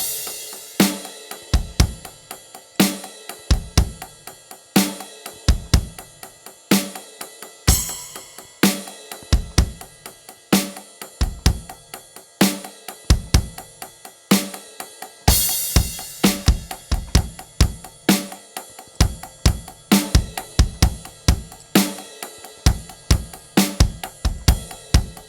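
A drum kit plays the second chorus of a song, with punchy kick and snare hits in driving repeated patterns and crash cymbal splashes, loud and close with no voices.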